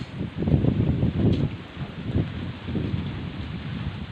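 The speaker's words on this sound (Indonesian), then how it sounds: "karena posisi lagi hujan guys, cuaca lagi tidak mendukung ya" Steady rain falling on rice paddies during planting, with a rumbling low wash, continuous and fairly loud, with gusty swells and no voices.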